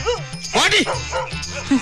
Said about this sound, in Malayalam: ഒരു സൗകര്യമില്ലാത്ത പട്ടികൾ. ഇങ്ങനെയുണ്ടോ പട്ടികൾ?